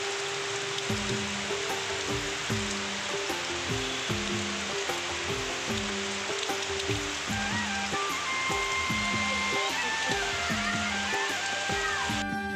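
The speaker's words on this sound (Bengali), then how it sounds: "সকাল থেকে দেখো কি বৃষ্টি হচ্ছে।" Rain falls steadily outdoors as a dense, even hiss that never lets up, with faint music or tonal sounds running underneath.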